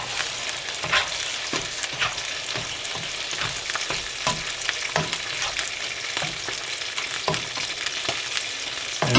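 Oregano and rosemary sizzle in oil in a pan for pasta puttanesca, with a constant close crackle and repeated sharp scraping taps as they are stirred, no voices.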